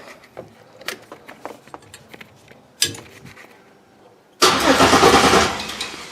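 Dodge Ram truck being started after sitting a while with a fresh battery: a few clicks and brief cranking catches, then the engine fires up and runs loudly at idle, close by.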